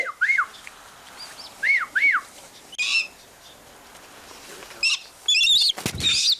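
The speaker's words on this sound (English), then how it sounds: "Flew right at the camera there, Goose." Bursts of flapping wings from a bird of prey pass close by, mixed with high chirping and whistled bird calls in short, scattered clusters.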